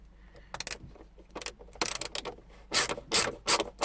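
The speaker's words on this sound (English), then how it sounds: "the ratchet keeps reversing itself" A ratchet clicking and scraping in short bursts while removing screws from the instrument binnacle of a Volvo C70, close and fairly quiet, with irregular pauses between the rattling strokes.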